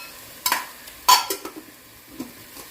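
Fresh peas are stirred into a mushroom biryani mixture in a pressure cooker, with a few sharp scraping strokes and light metallic clinks against the pot over faint sizzling.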